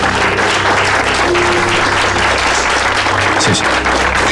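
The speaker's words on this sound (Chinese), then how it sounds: "谢谢，给我鼓的掌" Loud, steady applause from a room full of people at a company board meeting, continuous clapping that fills the whole stretch without pause.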